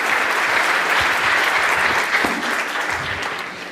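A church congregation applauds together in steady, dense clapping that stays loud throughout and tapers slightly toward the end, with no voices standing out.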